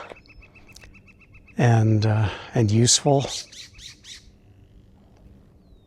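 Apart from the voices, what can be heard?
loud birds calling outdoors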